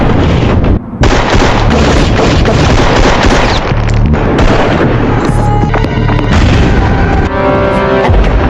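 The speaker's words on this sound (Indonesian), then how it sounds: "Nyaris mati akibat granat yang meledak di hadapannya, Jack kembali bangkit" A grenade blast from the 2008 action film The Shepherd: a loud, dense roar of explosive booms and crackling, sustained almost throughout with one brief dip near the start, then sharp debris-like rattles toward the end.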